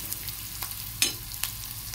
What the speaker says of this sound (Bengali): পেঁয়াজটা জাস্ট হালকা করে ভেজে নেব